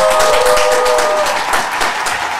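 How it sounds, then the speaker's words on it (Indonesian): Studio audience applauding on an Indonesian gaming talk show, a dense steady wash of clapping at close range with a faint tonal whistle fading out early. "Tepuk tangan dong."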